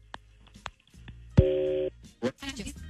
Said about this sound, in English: Let's make the phone call on War of the Roses on KDWB.